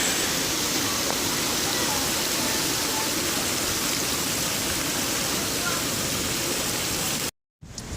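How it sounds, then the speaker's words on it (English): Water flows in a lazy river at a Myrtle Beach resort, a loud, dense, steady rushing wash that stops abruptly near the end. "We're just chilling on the lazy river."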